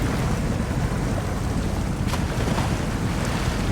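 An off-road vehicle ploughs through a stream in Expeditions: A MudRunner Game, at Kanab Creek, giving a steady, dense wash of churning water and engine rumble with one brief splash burst midway.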